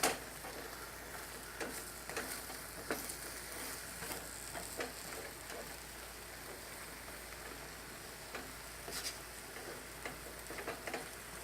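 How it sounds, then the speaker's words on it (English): Sliced zucchini frying in a pan, a faint steady sizzle with occasional soft clicks and scrapes as it is stirred, quiet and continuous with no talking. "I'm just going to let that continue to cook and stir it"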